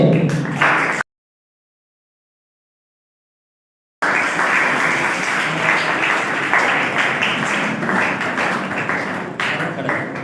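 An audience at a school prize distribution ceremony applauds a class 4 first-place winner, dense sustained clapping heard briefly at first, broken by a gap of silence, then resuming steadily to the end.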